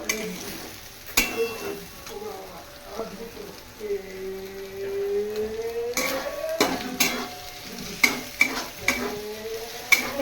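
Beaten eggs are stirred into pasta in a hot pan, with a soft sizzle under repeated scraping and clinking of a utensil against the pan, close and moderately loud.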